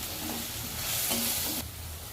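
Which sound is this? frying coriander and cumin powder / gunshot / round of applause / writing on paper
frying coriander and cumin powder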